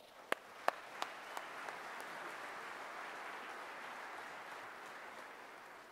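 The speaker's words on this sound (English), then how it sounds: "Let's give these two guys a big round of applause." A hacker conference audience at DEF CON 24 applauds its speakers: a few sharp individual claps up front, then a steady, fairly distant wash of applause that carries on evenly.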